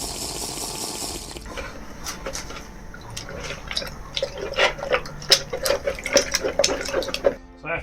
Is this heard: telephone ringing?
no